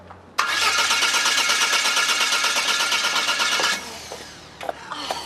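A car engine cranks loudly and steadily for about three seconds, then stops without catching, leaving a few faint clunks and rustles.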